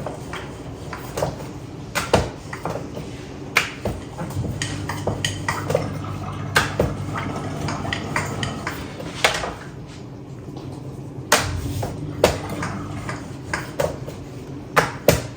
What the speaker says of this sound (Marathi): थोडंसं पीठ लावून मी ना हे लाटून घेते आता